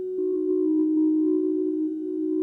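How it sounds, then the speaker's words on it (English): A steady, pure synthesizer sine wave tone from a Befaco Oneiroi Eurorack module holds one pitch for a couple of seconds, clean and sustained with faint upper harmonics. "so hear this sine wave"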